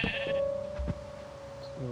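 A goat in the Minecraft video game gives a short synthetic bleat at the start, and a quieter second bleat follows near the end over a faint steady tone, with no talking.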